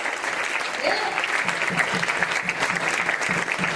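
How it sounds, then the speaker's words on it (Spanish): Church congregation applauding during a Spanish-language sermon: dense, steady clapping from a large crowd that fills the whole stretch at an even, loud level, with faint voices mixed in. "Dale fuerte el aplauso al Rey de Reyes"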